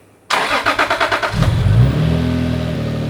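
A car engine fitted with coil-on-plug ignition cranks with a rapid string of rhythmic starter pulses, catches, and settles into a steady idle, close and loud with no talking.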